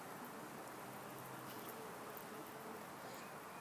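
Honeybees working the bars of a top bar beehive during an inspection, some carrying pollen, give off a steady, even buzzing hum that holds without a break for the whole stretch, with no voices.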